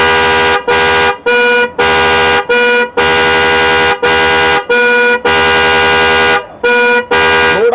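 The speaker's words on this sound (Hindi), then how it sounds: "अब हम आपको टेस्ट कराते हैं सेकंड हॉर्न" A loud car horn honks repeatedly in short and longer blasts, a tonal multi-note blare with brief gaps between each toot.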